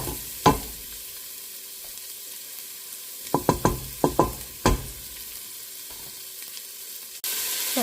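Onions and garlic fry in a pan with browning bacon and are stirred around, giving a steady low sizzle broken by clusters of sharp spoon scrapes and knocks against the pan.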